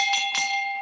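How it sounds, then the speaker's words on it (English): A single bell rings with bright sustained tones, struck twice in quick succession and decaying over the short span, heard alone during a virtual design conference celebration. "I need April to ring that bell"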